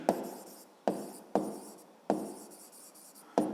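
Pen or pencil scratching across paper during a primary-school maths lesson, in five distinct strokes of writing with short pauses between them, close and fairly quiet, with no voices.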